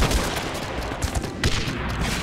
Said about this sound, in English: Oh no, they're shooting my sniper tower.